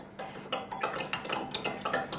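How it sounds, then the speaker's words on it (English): Salt being stirred into a liquid to dissolve it: a quick, steady series of bright clinks against the container, close and distinct, about a dozen strokes. "give it a stir"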